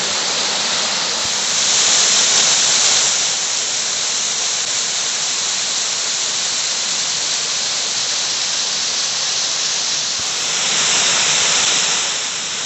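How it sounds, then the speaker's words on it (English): Water pours steadily over the top of a rocky creek falls near old farm remnants, a loud continuous broadband rush that swells slightly twice, with no talking. "this is at the top of the falls"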